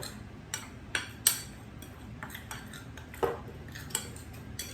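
An egg being whisked with garlic powder and black pepper in a bowl for a bacon and chicken sandwich, heard as a handful of sharp utensil clicks and taps against the dish, scattered and moderately close.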